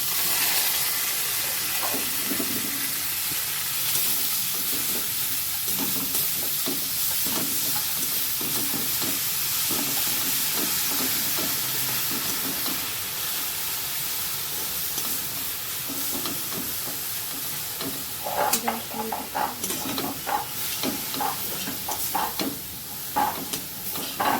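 Chickpea greens fry in hot oil with already-fried garlic, giving a steady close sizzle broken by stirring scrapes, with sharper clatters near the end.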